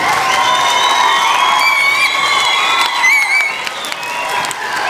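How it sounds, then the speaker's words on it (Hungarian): A festival audience cheers and applauds a band, a dense, lively mix of clapping, whoops and high shouts sustained throughout before easing slightly near the end. "Nagy tapsot neki!"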